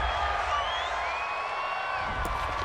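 Home stadium crowd at an NFL playoff wildcard game roaring after a penalty call, a broad sustained wash of cheering and whoops from a distant mass of fans.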